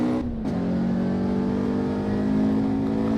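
Race car engine in the Assetto Corsa Evo driving game holding a loud, steady high drone, with a brief dip in pitch near the start before it settles into a sustained revving tone. No talking.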